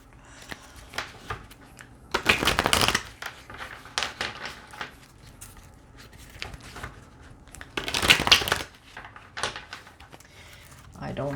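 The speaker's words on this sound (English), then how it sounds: "So I'll just give it a little bit of a shuffle." A deck of tarot-style reading cards is shuffled in two short, crisp riffling bursts, near and fairly loud, separated by quieter handling noises and soft talk.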